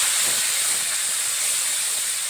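Loud, steady sizzling hiss of meat cooking in hot oil left from frying onions, a continuous bright crackle with no speech over it.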